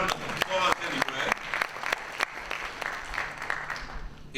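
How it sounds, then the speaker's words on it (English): Audience applause at a school board candidates forum: a sparse burst of separate, sharp hand claps in a room, tapering off and mixed with some talking. "Well, give Chad a round of applause anyway."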